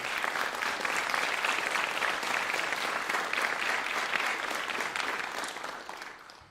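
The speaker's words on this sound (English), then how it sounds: "Please give them a round of applause." Audience at a graduation ceremony applauding for school staff, dense steady clapping from a sizable crowd that holds for several seconds and then fades out.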